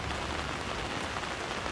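Steady rain falls at a beach campsite at Cibereum beach in Anyer, Banten, a dense, even hiss of drops on surfaces that continues without a break and with no voices.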